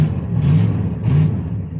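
A car accelerates through gears with a slow shift, its engine rumbling in two rising surges with a dip between, close and fairly loud.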